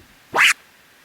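A reverse tear scratch on a turntable record, done by hand without a crossfader: one short, loud, sweeping whoosh with a falling-then-rising pitch, standing alone against silence.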